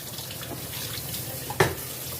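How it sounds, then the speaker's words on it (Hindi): Tap water runs steadily into a sink while a strainer is washed under it, a continuous hiss with a sharp splash or clatter near the end. "और इसको छन्ने को धो दूँगी"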